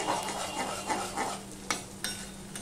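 Two eggs hit a hot pan for egg paratha, followed by steady close sizzling and frying with a couple of sharp utensil clicks, no voices.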